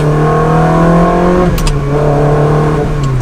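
A Ferrari 360 Spider's engine roars loudly from close range under hard acceleration, then the pitch drops through a manual gear change with a brief mechanical click before it pulls on.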